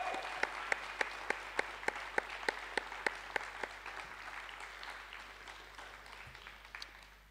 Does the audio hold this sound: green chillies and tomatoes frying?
no